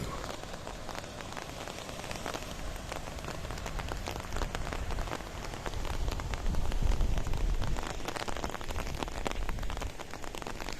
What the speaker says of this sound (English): a cloudy, rainy day in downtown Paphos